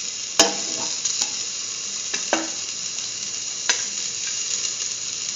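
Potato and eggplant pieces sizzle in a hot frying pan, a steady close hiss broken by a few sharp clicks and scrapes of stirring, with no talking.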